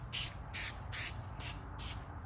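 An aerosol can of Plasti Dip sprays a second coat onto car emblems in five short, even hissing bursts with brief pauses between them, close and moderately loud.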